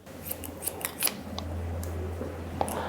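Scissors snipping through medium-length grown-out hair during a haircut: a quick series of sharp, close crisp snips, then a pause and a couple more cuts over a low steady hum.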